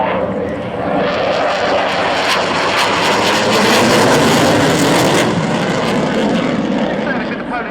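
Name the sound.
MiG-29 fighter jet flying at air display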